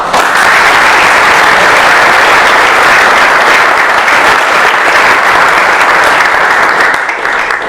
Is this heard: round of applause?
yes